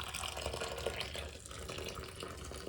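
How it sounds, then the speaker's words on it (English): Boiling water is poured over knitted pieces sitting in soapy water in a sink, giving a faint continuous splashing and trickling wash with no talk. "pour boiling water on top"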